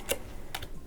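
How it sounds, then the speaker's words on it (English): Tarot cards being shuffled by hand, heard as two brief, crisp papery bursts spaced about half a second apart against a quiet room. "This is why I don't like shuffling on camera, y'all."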